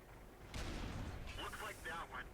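Tank guns firing in World of Tanks, with a KV2 and T25 in the battle, producing a sudden heavy boom that rolls out into a rumbling tail under a commentator's voice.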